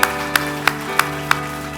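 A congregation at a Korean Holiness church Sunday service claps together in an even rhythm, about five sharp, evenly spaced claps over sustained background music.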